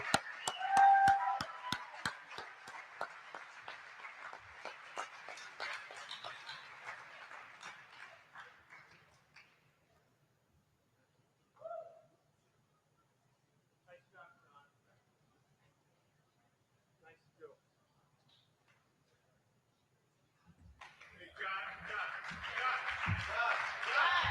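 Audience applause at the MOSHAPE 2021 awards banquet: a thick burst of clapping that fades out over several seconds. A quiet stretch with a few scattered sounds follows, then a second round of clapping swells up at the end.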